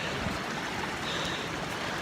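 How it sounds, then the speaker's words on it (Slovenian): Mountain stream on a hillside trail in Italy, a continuous broadband rush of flowing water, steady and fairly close with no voices. "Tlele je en potok, pa tlele je en potok."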